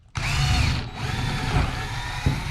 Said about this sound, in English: we are good to start drilling the new holes